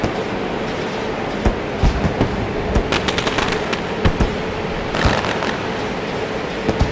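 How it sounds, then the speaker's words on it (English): Celebratory fireworks bursting off the backstretch at Richmond International Raceway after a street stock race, scattered sharp pops and cracks over a loud, steady roar of crowd and track noise. "Celebratory fireworks in the air off the backstretch."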